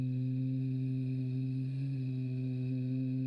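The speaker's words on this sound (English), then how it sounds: "This sound is like a hum to create a vibration stemming from your vocal cords." A steady voiced hum carried on an exhale during a breathing practice, low and sustained with a strong, even tone that holds for several seconds without a break.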